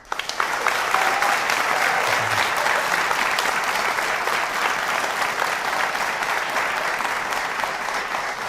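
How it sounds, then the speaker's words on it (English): A studio audience at a televised Ohio gubernatorial debate applauds the candidates, a dense, even roar of clapping hands that holds steady and loud throughout. "we welcome you to applaud after we welcome our candidates, Connie Pillage, Joe Schiavone, Betty Sutton"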